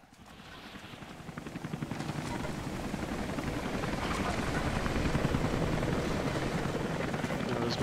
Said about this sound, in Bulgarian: Разминах се от хеликоптера.